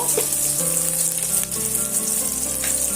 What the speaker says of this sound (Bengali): শুকনো লঙ্কাটা দিয়ে আবারও এক দু মিনিটের মতন ভেজে নেব